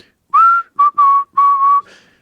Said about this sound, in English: So at the very end of the song, I whistled.